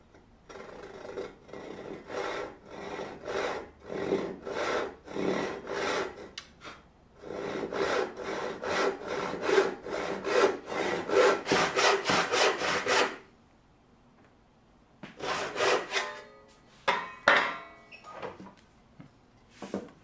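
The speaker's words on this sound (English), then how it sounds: "for this angled cut, I'm actually going to put the block in the vise and I'll cut from two different directions" Hand saw cutting an angled kerf through a wooden block clamped in a vise, working from two directions; close, loud rhythmic rasping strokes in two long runs with a short pause between, no talking.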